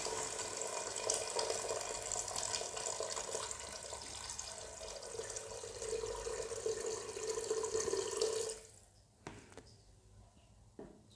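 About half a kilo of water pours steadily onto chana dal for homemade shami kabab, a close, splashing stream that runs for several seconds and then stops abruptly, leaving a few faint drips and clinks.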